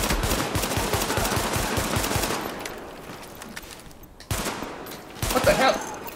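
Rapid automatic gunfire in the video game The Division, dense bursts of shots close and loud, easing off briefly before another short burst near the end.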